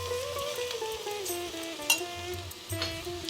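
Three medium coarsely chopped onions fry in oil with a pinch of asafoetida in a pan, a soft steady sizzle with light stirring scrapes, while steady musical tones run underneath.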